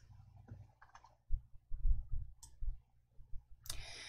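Mouse clicks while working in an Excel spreadsheet: a few sharp, close clicks spread irregularly across a few seconds over a quiet room, with soft muffled bumps between them and no speech.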